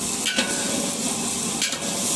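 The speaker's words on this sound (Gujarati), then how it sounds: "વઘાર ચાલુ છે મિત્રો" Tempering spices sizzle in hot oil, giving a loud, steady, close hiss broken by two brief scraping bursts, with no one talking.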